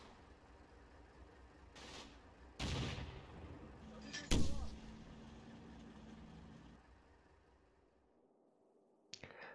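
Area fire from overwatch positions in the Combat Mission wargame, Kampfgruppe Peiper near Stavelot: a few distant, muffled gunshot bursts and booms over a faint background rumble, fading into quiet at the end.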